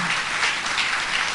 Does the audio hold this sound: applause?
yes